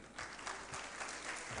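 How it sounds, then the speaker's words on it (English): Faint, brief clapping from the audience at a quarterly government press briefing held by the Adamawa State Ministry of Information, a low steady patter lasting under two seconds. "Please give him another round of applause as he takes his seat."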